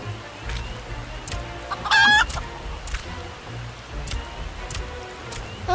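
Chickens clucking in the video game Final Fantasy XIV, one loud, close cackling burst rising over a steady patter of rain-like ambience, with softer scattered clucks around it.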